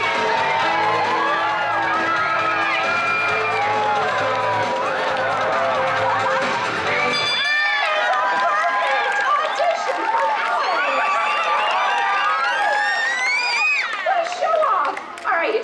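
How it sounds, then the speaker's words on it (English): Live audience at Universal's Animal Actors show at Universal Studios, a crowd of many voices cheering, whooping and clapping with children shouting, loud and close throughout, with an amplified announcer voice over the noise early on. "All right, folks, don't forget to cheer."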